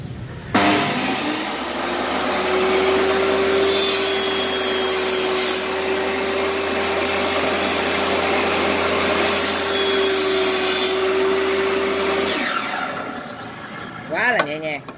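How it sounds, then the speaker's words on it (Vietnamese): A Makita 2703 table saw motor spins up and runs steadily with a loud whining hum for several seconds, then winds down, followed by a brief clatter. "cưa bàn Makita 2703 sản xuất tại Mỹ, xuất sang thị trường Nhật."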